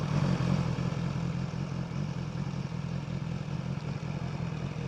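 A BMW S1000XR motorcycle, a 160-horsepower sport-touring bike, runs with a steady, smooth engine drone and low rumbling hum, close and continuous with no talking.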